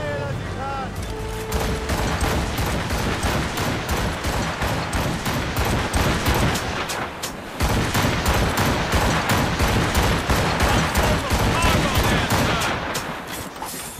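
Rapid volley of ship cannon fire from a sailing warship in Assassin's Creed Rogue, dense overlapping booms rolling on continuously and loud, with a brief pause midway before the barrage resumes, shouted voices mixed in.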